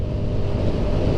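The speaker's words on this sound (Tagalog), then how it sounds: "yung tunog ng kanyang muffler." A Honda RS 125Fi motorcycle's muffler rumbles steadily with a deep, continuous low drone, close and fairly loud, no speech.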